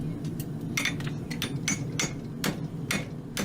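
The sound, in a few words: hammer blows forging a concave hind horseshoe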